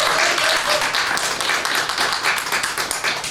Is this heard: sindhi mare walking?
no